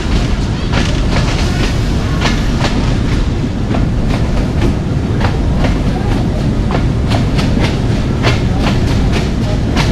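Passenger train running on rails between Rawalpindi and Havelian in rain, with steady loud rumble and repeated clickety-clack wheel beats over rail joints throughout.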